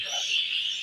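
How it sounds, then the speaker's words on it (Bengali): Birds calling at a place where cloth is woven, a brief burst of high chirping close by with no talk. "পুরা পাখির ডাক।"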